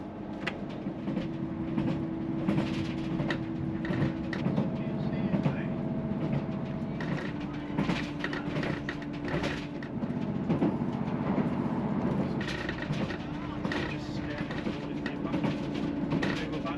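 A train on the Far North Line from Inverness to Wick rumbles steadily along the rails with a continuous low drone and faint rhythmic clatter, while a voice talks over it throughout.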